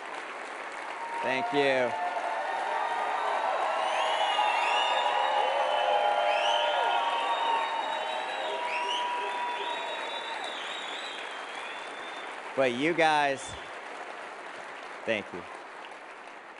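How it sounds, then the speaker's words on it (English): An audience gives prolonged applause with cheers and whoops, a broad, steady roar of clapping under scattered shouts, while a speaker briefly talks near the start and again toward the end as it fades. "The applause was a little long."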